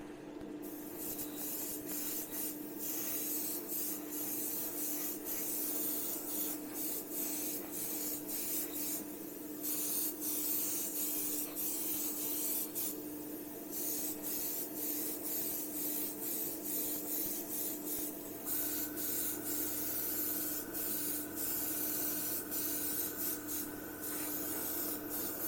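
An airbrush sprays flat aluminium paint onto a 1/35 scale Spitfire Mk Vb model, a soft, steady hiss that runs on without a break, with no voices.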